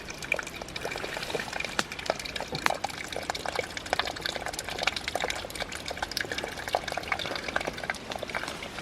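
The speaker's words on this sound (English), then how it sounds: "it's coming down here. Must be some kind of waterfall." A small waterfall in a meadow splashes and gurgles steadily, a continuous close trickling rush with no talk over it.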